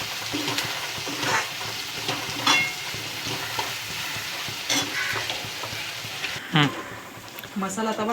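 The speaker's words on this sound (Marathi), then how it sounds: "हे सर्व मिक्स करून सर्व भाजून घ्यायचं आहे मस्त असं." Sesame seeds and peanuts sizzle while being stirred and roasted in a pan for a homemade masala, with a continuous close frying hiss, scraping spoon strokes and a voice speaking over it.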